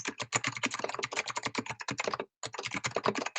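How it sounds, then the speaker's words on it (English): Loud, rapid computer keyboard typing picked up close by a remote meeting participant's microphone, a dense clatter of keystrokes with one brief pause near the end before the typing resumes. "Your keyboard is very loud."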